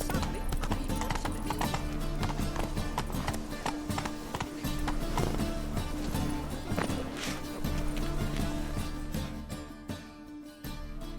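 Roach the horse in The Witcher 3 trots with a steady, quick run of hoof clip-clops over a layer of game music and ambience. The hoofbeats stay close and clear throughout.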